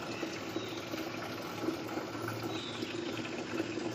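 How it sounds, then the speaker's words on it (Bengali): Drinking water running steadily into a container, a continuous hissing, splashing flow at close range with no voices. "এখান থেকে এরকম করে জল ভরে নিয়ে যেতে হয়, খাবার জল এরকম করে ভরে তারপরে নিয়ে যাই আমরা"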